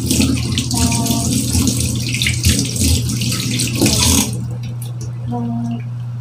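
Shower water running in a bathroom, a steady close hiss of spray that cuts off near the end, with brief tonal squeaks and a faint hum beneath.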